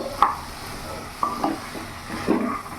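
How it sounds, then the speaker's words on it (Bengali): A chicken ghugni mixture is stirred in a pan, making a few sparse, soft scrapes and light clinks over a faint background sizzle, with no talking. "ভালো করে নাড়াচাড়া করে মিশিয়ে নেব।"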